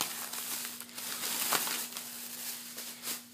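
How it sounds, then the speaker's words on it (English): A plastic bag crinkles and crackles close by in a run of bursts, rustling unevenly as items are unpacked from it, with a faint steady hum underneath. "it's going to be loud here for a second while I go through this paper, this plastic bag"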